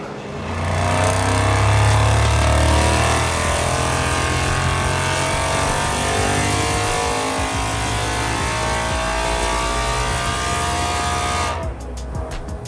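A Ford Mustang GT V8 roars on a dyno, a loud sustained run climbing and holding high revs for several seconds before cutting off abruptly.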